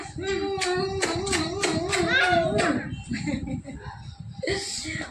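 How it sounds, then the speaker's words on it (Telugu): Hands clap in a quick run of sharp, close claps alongside a voice and other talking, then the claps stop while the voices carry on. "Claps claps claps."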